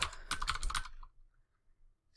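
Quick bursts of keystrokes on a computer keyboard while entering an address during EdgeRouter 6P setup, close and crisp for about a second, then near silence.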